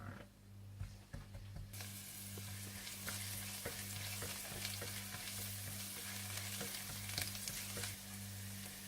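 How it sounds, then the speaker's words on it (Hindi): Green chillies fry in hot oil in a pan, a steady close sizzle with crackling pops and occasional stirring scrapes running throughout without any talk. "और तेल गर्म होने के बाद आप इसमें सब्ज मिर्चें डाल दें और थोड़ा सा भून लें।"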